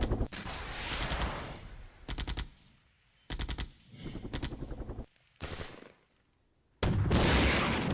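Tanks firing in the video game Flashpoint Campaigns, a series of loud bursts of rapid gunfire and rumbling blasts separated by brief gaps, dense and close, with no talk.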